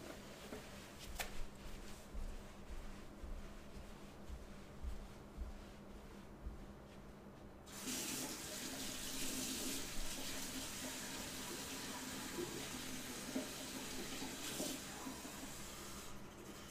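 A kitchen or bathroom tap opens partway through, switching from a quiet room hum to a steady, broad rush of running water that continues evenly to the end.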